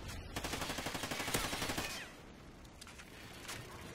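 Rapid automatic gunfire rattles in a video game, a fast burst of shots for about two seconds, then scattered quieter single shots and distant fire, fairly faint overall.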